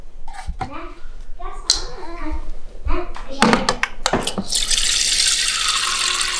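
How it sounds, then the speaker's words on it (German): A voice speaks over handling noises, then filtered water pours steadily into a cat's bowl, a close, continuous splashing rush that fills the last couple of seconds. "Auf die andere Seite kommt dann das Wasser."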